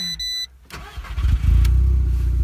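An Audi A3 8L with an aftermarket exhaust starts up after a few short electronic beeps, cranking briefly before settling into a loud, steady, close idle.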